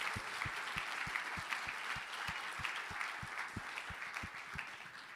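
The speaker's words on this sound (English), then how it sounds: "Can we have a big round of applause for our Melbourne Vixens squad?" Big round of applause from the crowd at the 2024 Sharelle McMahon Medal netball awards for the Melbourne Vixens squad, sustained and full, with distinct low thumps recurring every half second or so beneath the clapping.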